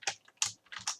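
Quick keystrokes on a computer keyboard, a short burst of four or five close, crisp taps with brief uneven gaps, heard alone with no talking.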